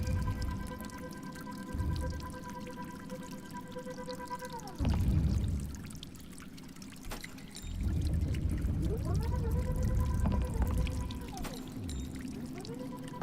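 Water pouring and dripping in The Cave video game, a gushing flow that stops and restarts with sudden low thuds, alongside tonal in-game sounds and a voice talking over it.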